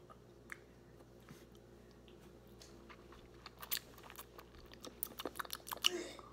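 Soft bites and chewing of MY/MO mochi ice cream sound close and quiet, starting sparse, then growing into denser wet crunches and mouth sounds toward the end.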